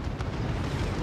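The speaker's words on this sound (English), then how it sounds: "It's the explosive rounds." Explosive rounds detonating in Call of Duty Warzone, a continuous dense low rumble of blasts with one brief sharper burst, loud and steady throughout with no talk.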